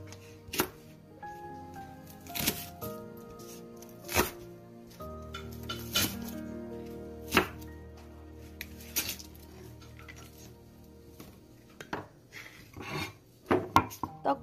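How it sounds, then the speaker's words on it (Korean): A knife chops green onions into large pieces on a cutting board in irregular, sharp knocks, spaced unevenly with quieter scraping in between, close and fairly soft. "대파도 준비해 주셔서 성큼 큼직큼직하게 썰어 주세요"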